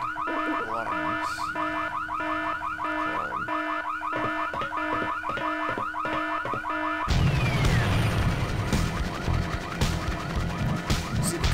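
A car alarm blares in the video game Full Throttle near a gas tower, a loud repeating electronic wail cycling steadily for about seven seconds before giving way to a harsher, noisier burst.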